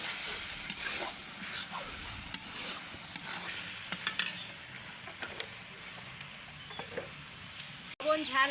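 Spiced vegetable bhaji frying in a pan with cumin powder, stirred now and then. There is a soft continuous sizzle with scraping spatula strokes, a sharp clink near the end and a faint voice in the background.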